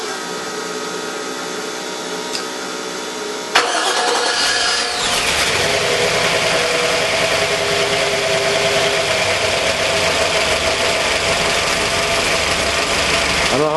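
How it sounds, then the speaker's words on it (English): A turbocharged small-block Chevy V8, budget blow-through turbo kit on a 355, cranks and catches after a few quiet seconds, then runs loud and steady with a brief rev early on, holding a rough idle with no talking. "So let me fire this thing up so you guys can hear it, and I'll give her a little rev."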